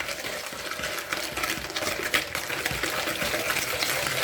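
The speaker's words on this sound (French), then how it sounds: "Le beurre fondu, je rajoute le sucre," Sugar being stirred into melted butter in a bowl for a streusel apple tart, a steady close wet swishing and scraping that continues without pause.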